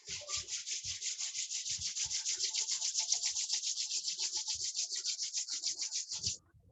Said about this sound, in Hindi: दोनों पाम्स को तेजी से रब करें।